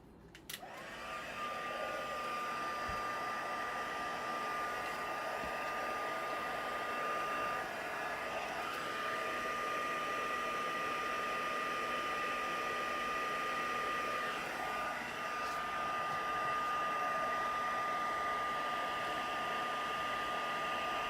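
A hair dryer blows steadily and loudly at close range to dry paint on a misted background, one continuous whooshing hum with a high whine held from start to finish.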